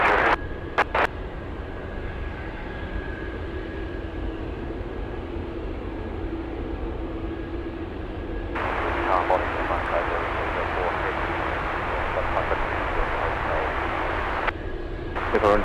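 Jet airliner departing runway 15 at Anchorage Airport on a windy day, a steady distant engine roar that swells partway through, with radio chatter from the tower running underneath.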